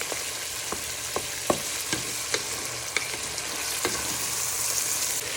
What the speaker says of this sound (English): Don't forget to get all the way around the pan so everything's nicely stirred in.